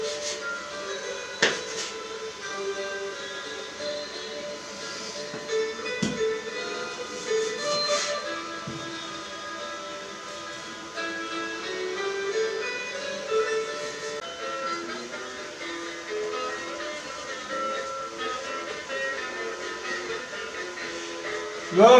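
Electric meat grinder mincing wild boar meat and liver for homemade pâté, a steady droning motor hum with a metallic whine that runs on and on, with a few knocks and clanks along the way.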